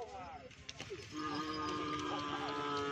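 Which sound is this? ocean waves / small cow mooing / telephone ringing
small cow mooing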